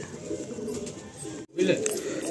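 White breeder pigeons cooing softly near the microphone, low murmuring coos running under someone speaking throughout.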